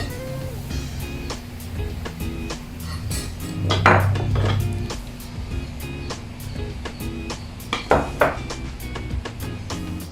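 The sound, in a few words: mixing dry cake ingredients in a bowl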